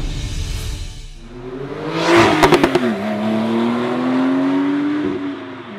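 Turbocharged Porsche 991.2 Carrera 4S convertible driving, its engine note rising and falling under acceleration, with a short burst of sharp pops or gear-change blips partway through before a steady, loud drone resumes.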